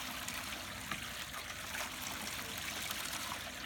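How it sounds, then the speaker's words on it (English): Water runs down the riffles of a gold cleanup sluice, a soft, continuous trickling wash that stays even and fairly quiet, with no talking. "We'll turn it on, let some water run down it, and then I'm going to tip it."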